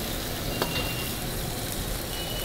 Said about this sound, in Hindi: ये फ्राई हो रहा है अभी